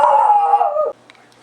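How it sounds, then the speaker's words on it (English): A dog howls loudly and steadily for nearly a second, its drawn-out wavering cry filling the space before cutting off abruptly, leaving a quiet room with a few faint ticks. "He seems to think he needs to bark at whatever is talking."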